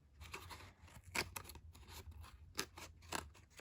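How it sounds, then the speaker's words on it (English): Scissors snipping through paper nearby, several crisp cuts at an uneven pace, fairly quiet with no talking. "I'm just going to use my scissors and I'm cutting at an angle"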